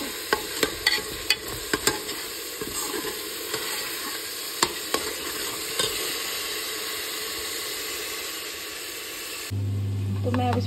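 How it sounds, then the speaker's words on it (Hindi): Food frying in oil sizzles with a steady hiss, punctuated by sharp spoon clicks and scrapes early on, and then the tone changes abruptly near the end. "तो बस ऐसे फ्राई करते हैं और निकाल देते हैं।"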